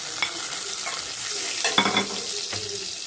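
Spices added to browned onions in a pan for a Bengali pumpkin and Malabar spinach dish, sizzling steadily and close, with stirring scrapes and a few sharper spatula knocks near the middle and end.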